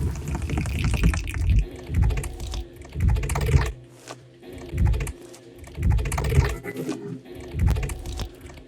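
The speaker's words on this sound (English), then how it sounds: "I took all of these sounds and I cut them up and I put fades on them" Chopped-up synth sounds with fades blend into a thick, pulsing texture, swelling and dropping in rhythmic bursts roughly every second, with brief gaps between layered fragments.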